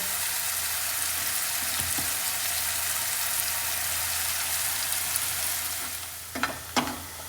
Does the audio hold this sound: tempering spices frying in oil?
yes